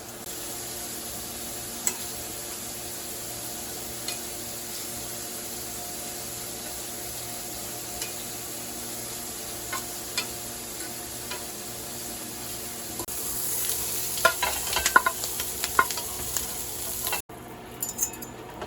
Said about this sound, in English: when I'm blackening it, or whatever you want to call it, pan searing